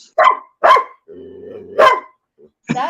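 A dog barks sharply several times close by, with a low growl between the barks.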